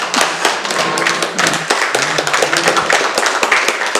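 An indoor audience at a financial talk claps for about four seconds: a dense, even spatter of many hands, fairly loud and close, with no speech over it.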